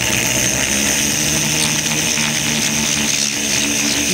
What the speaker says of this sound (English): So when we added the water, when we started drilling